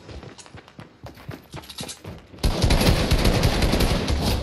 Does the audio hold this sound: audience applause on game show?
no